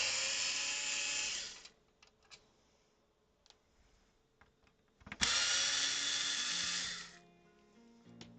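A power screwdriver whirs while backing screws out of the bottom of a Sega console's plastic chassis near the cartridge slot. Two loud, steady bursts of roughly a second and a half each come close up, with small clicks and handling noise in the quiet gap between them.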